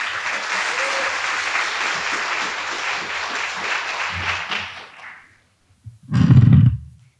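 A commencement ceremony crowd for a College of Pharmacy graduation breaks into loud, sustained applause that fades out over about five seconds, and then a voice speaks briefly into a microphone.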